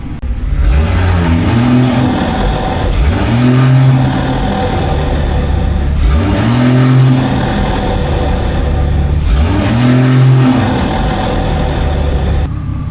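BMW 340i with B58 engine and front mount intake revved repeatedly, four rising and falling revs from idle, loud and close with a deep exhaust rumble throughout.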